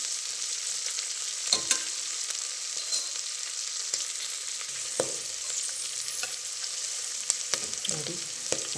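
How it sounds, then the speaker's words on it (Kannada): Mint leaves frying in a little oil for ghee rice, a bright steady sizzle close by, punctuated by stirring scrapes and small taps at irregular moments, with no voices. "ಇದೆಲ್ಲ ಸ್ವಲ್ಪ ಎಣ್ಣೆಲಿ ಚೆನ್ನಾಗಿ ಫ್ರೈ ಆಗಬೇಕು."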